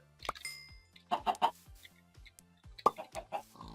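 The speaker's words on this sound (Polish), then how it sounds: "Jesteście naocznymi świadkami, jak kura wysrała jajko." A chicken in the Minecraft video game clucks in several short, close bursts, separated by brief quiet gaps with soft game sounds between.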